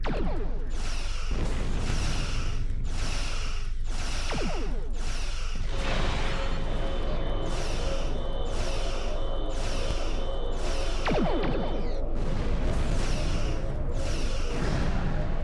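Starship weapons fire at an enemy vessel in the video game Star Trek Online, a dense run of loud sci-fi blasts and whooshes with sustained tonal beams, continuous and near throughout.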